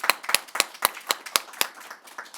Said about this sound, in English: Can we have applause for our third speaker here?